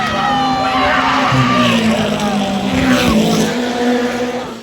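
Stock cars racing on a North Carolina dirt track in the early evening, their engines a loud, continuous roar with rising and falling pitch as the field passes close by, filling the whole stretch with no pause.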